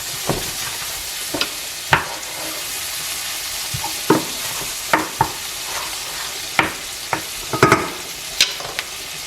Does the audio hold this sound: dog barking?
no